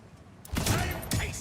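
A single heavy, slow gun shot from Borderlands 4 booms after a quiet start, followed by a second thumping report about half a second later, with a voice talking underneath.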